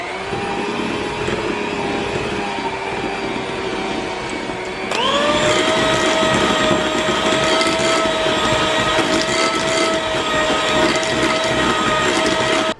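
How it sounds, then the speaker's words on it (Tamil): A hand blender mixes thick zebra cake batter with maida flour at low speed, a loud steady motor whine that steps up in pitch partway through and then holds, close and continuous. "போட்டுட்டு ஹேண்ட் பிளெண்டரை வச்சு மெல்ல லோ ஸ்பீடில் மிக்ஸ் பண்ணியிருப்பேன்"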